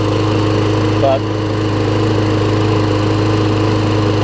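Craftsman self-propelled lawn mower with a Tecumseh engine runs steadily and loudly throughout, a constant close drone with strong harmonics, briefly dipping once as a single spoken word cuts in.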